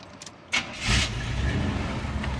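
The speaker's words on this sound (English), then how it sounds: "Like I said, we'll start it again. It'll fire right up." A utility truck's engine cranks with a short burst and fires up into a steady, low rumbling idle, heard close and without talk.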